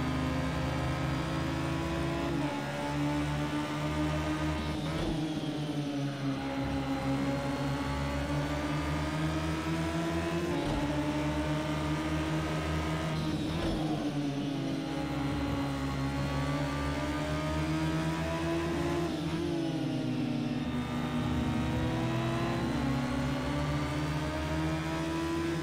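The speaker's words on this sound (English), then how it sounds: "You hear the two engines." Radical SR3-RS race car engines at Brands Hatch drone with high-revving tones that rise and fall in pitch several times, from shifting and changing speed. The sound stays loud and continuous with no voices.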